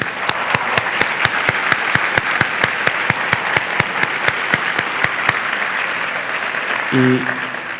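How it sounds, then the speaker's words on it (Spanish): An audience at a university panel forum on state institutions applauds its panelists with steady, dense clapping that holds for most of the stretch and thins toward the end, where a brief voice cuts in. "Quiero agradecer a nuestros panelistas, a todos ellos, con un fuerte aplauso"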